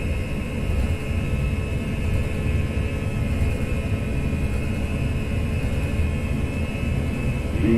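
Airbus A320 jet engines roar steadily during a P3D flight simulator takeoff roll. The noise is a loud, continuous broadband rush with a sustained high whine over it and no pauses.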